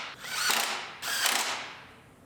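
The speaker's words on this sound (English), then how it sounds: "Put our bolts in." Ratchet wrench clicking as bolts are run in on the bumper of a 2019 GMC Sierra Denali HD pickup, two quick bursts of rapid ratcheting up close with a short pause between.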